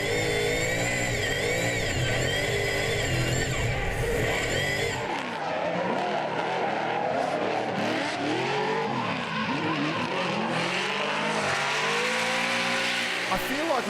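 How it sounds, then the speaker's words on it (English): On-board sound of a naturally aspirated V8 drift race car, its engine revving hard and rising and falling continuously with tire squeal. A voice speaks over the loud engine at the start. "That's the noise of a race car right there."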